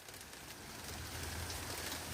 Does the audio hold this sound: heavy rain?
yes